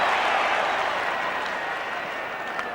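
A home crowd roaring at a 1991 Australian football match between Adelaide and Essendon, a broad, loud, sustained cheer and applause from a large stadium crowd that eases slightly toward the end.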